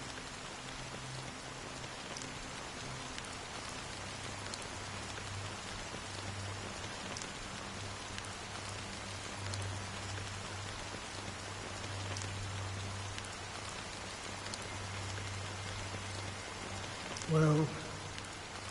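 Steady rain falls throughout a scene in the video game Honkai Star Rail, a continuous hiss of drops on surfaces at even loudness, with a low hum beneath and a brief louder blip near the end.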